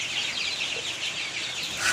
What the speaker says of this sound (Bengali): আমার কালার বার্ড মুরগি